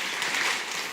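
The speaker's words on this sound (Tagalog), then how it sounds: "Alam ko kung saan kayo pumalakpak." An audience bursts into applause, a dense, steady patter of clapping hands lasting only about a second.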